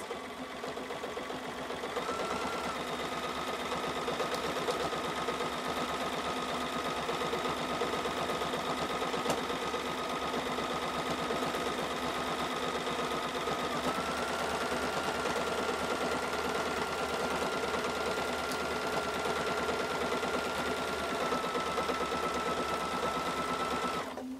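A domestic sewing machine runs for free-motion quilting, a continuous even motor hum with slight shifts in speed and no talk.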